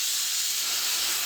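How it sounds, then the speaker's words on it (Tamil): A kitchen pressure cooker releases a steady, loud hissing whistle of escaping steam while cooking chickpea curry and rice, the jet holding constant and unbroken with no voices. "3 விசில் வந்துருச்சு. ஆஃப் பண்ணிடலாம் குக்கரை."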